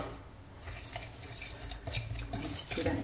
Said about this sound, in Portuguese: Aqui eu misturo açúcar, farinha de trigo.